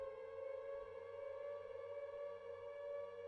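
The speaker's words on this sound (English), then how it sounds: "The air raid sirens are going." Air raid sirens in the Silent Hill 2 video game wail as a steady, sustained drone with layered tones, holding level throughout with no talk.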